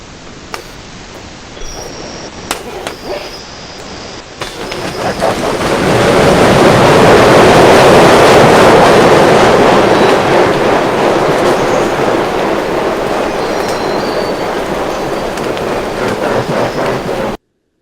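A train rolls past on rail tracks with clicks and a rising rush that swells to a loud, close roar and holds steady as the cars go by.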